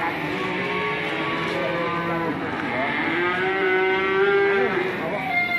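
Cattle at a livestock market moo in long, drawn-out calls, one rising and sustained bellow standing out near the end over a constant busy market din.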